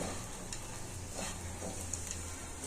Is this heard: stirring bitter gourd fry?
yes